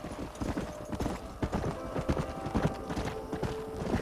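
Horses' hooves clip-clop steadily in Red Dead Redemption, several animals trotting close by in a busy overlapping rhythm, with a faint whinny and low ambient game sound beneath.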